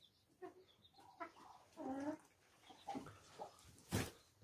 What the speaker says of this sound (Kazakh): Тауықтарымыз осы.